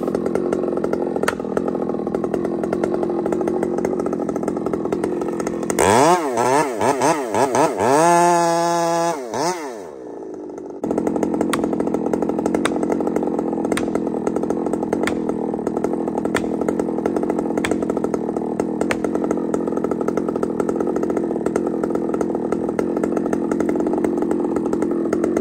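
A chainsaw cuts into hardwood while wedges are set during tree felling, a loud, close, continuous buzzing engine that revs and bogs, with a few seconds where the pitch sweeps up and down before it settles back into a steady cutting roar.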